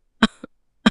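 A woman coughs in a cartoon farmhouse courtyard, with two sharp, close coughs about half a second apart and a softer catch of breath between them.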